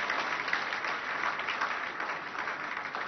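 A church congregation at a French-language worship service applauding, with steady, dense clapping from many hands and faint cheering, filling the room at an even level throughout.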